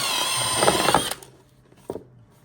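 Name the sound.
drilling a hole with a drill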